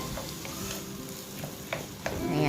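Fresh garden green peas are stirred into a dish in a hot pan, with a steady sizzle under scattered scraping and clicking strokes of the spoon.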